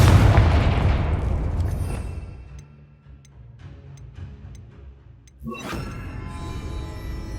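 Spell explosions from Bombarda and Confringo in the video game Hogwarts Legacy: a loud booming blast that decays over a few seconds, then a second sharp burst near the end, with faint ticking in between and no talk.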